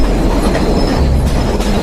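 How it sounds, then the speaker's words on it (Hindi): A train pulling away from a foggy station platform, steady low rumble of rolling rail cars with faint wheel clatter, continuous and fairly close, no voices. "उसके उतरते ही ट्रेन भी चल पड़ी।"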